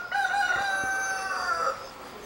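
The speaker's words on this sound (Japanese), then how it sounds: "至る所から鳥の声がすんな。" A rooster crows once in a long, ringing call at the grounds of Atsuta Shrine, fairly close and clear over a quiet outdoor background.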